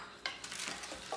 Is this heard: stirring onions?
yes